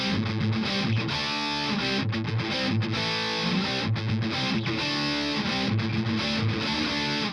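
Loud, heavily distorted metal guitar riffing through an MXR 10-band EQ pedal set completely flat in the effects loop, tight palm-muted chugs broken by short pauses, dense and continuous throughout.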